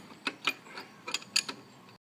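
A rear sprocket on a 500 scrambler motorcycle is wiggled off its hub, giving a few faint metallic clicks and light rattles over a quiet background.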